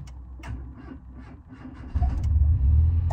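A car engine running on hydrogen gas through a stock ECU idles with a rough, low rumble that swells noticeably louder and fuller partway through.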